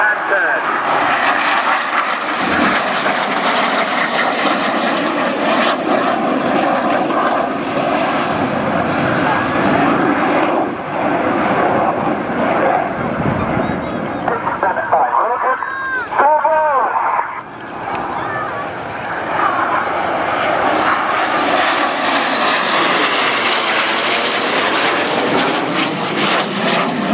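Red Arrows display jets turn and manoeuvre overhead at the 2013 Portrush Airshow with a sustained loud engine roar that swells and fades, while a commentator talks over it throughout.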